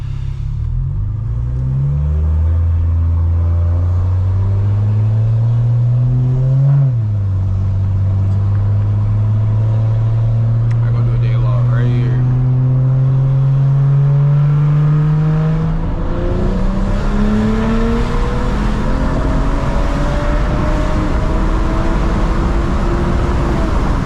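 A straight-piped BMW E92 with the N55 engine pulls hard at night, its loud, raspy exhaust note climbing steadily through the revs, dropping briefly at a shift and then rising again before settling into a rough cruising drone.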